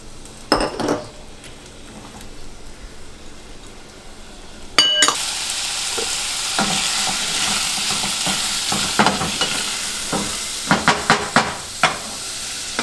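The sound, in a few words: onions and garlic sautéing in cooking oil in pot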